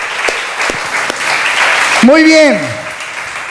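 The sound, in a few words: congregation applause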